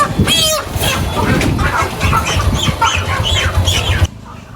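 Many chickens cluck and squawk loudly and continuously close by at a fish market, a busy overlapping chorus of fowl packed in a vehicle that stops abruptly near the end.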